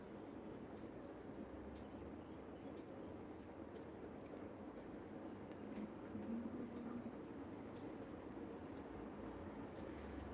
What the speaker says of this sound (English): My house is near the railway track, so sound comes.